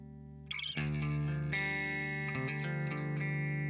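Electric guitar played through a Fractal Audio AX8 Mark series clean amp model with no effects, a single chord struck then ringing sustained notes and a few further strums, loud and close.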